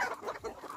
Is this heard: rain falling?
no